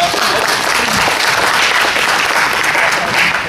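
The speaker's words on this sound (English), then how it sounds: "Give her a round of applause" Seminar audience applauding a presenter, a dense steady wash of many hands clapping at close range, sustained evenly throughout with no pause.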